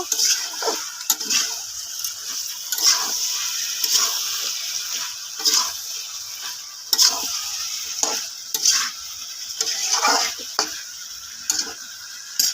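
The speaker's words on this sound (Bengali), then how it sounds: "দেখো চিকেন রান্না করছে" Chicken is stirred and fried in a pan, a steady hiss of sizzling oil broken by repeated scraping clicks of a spatula against the metal, close and moderately loud, no talking.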